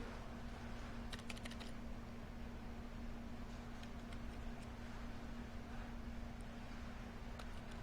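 Keys on a Fujitsu Q572 tablet keyboard are clicked in brief scattered bursts of faint ticks over a steady hum of background noise.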